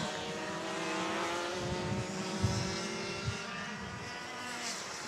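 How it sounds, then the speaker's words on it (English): Rotax Max 125cc racing kart engine held back at low revs, a quiet steady buzzing drone with harmonic whine, moderately distant and without talk. "it almost sounds like he's driving an e-kart because he's really backed it down so much"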